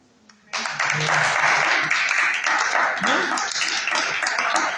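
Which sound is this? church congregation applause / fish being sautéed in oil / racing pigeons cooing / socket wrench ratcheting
church congregation applause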